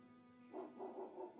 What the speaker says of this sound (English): he faintly hears the sounds of Colby's relentless barking as it gets further away from the house